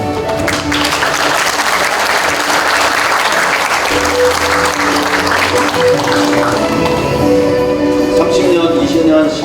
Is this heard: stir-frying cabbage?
no